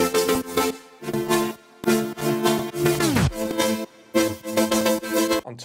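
Layered synth chords built from three Serum presets covering low, mid and high ranges, sustained chord stabs in a rhythmic pattern with short gaps and one pitch-bending drop, loud and alone.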